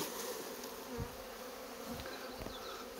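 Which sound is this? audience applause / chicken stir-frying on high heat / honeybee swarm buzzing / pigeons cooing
honeybee swarm buzzing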